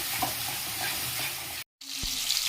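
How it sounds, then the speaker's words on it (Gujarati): Potatoes and tomatoes are sautéed and stirred in a pan for a dry farali potato dish, giving a steady, loud sizzle that cuts out briefly before resuming, with a soft scrape of stirring. "હવે સરખી રીતે એને સાતળશું।"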